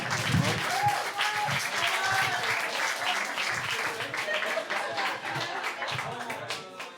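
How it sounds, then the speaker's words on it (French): An audience at a slam poetry tournament in Nice applauds loudly and steadily, dense clapping sustained for several seconds, with some voices mixed into the crowd noise. "Applaudissez le poète."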